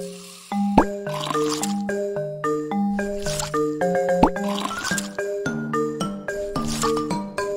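Fruit is scooped out in a children's cooking video game, heard as a series of cartoonish squishy plops and drips with bright tinkling musical tones over a light backing tune.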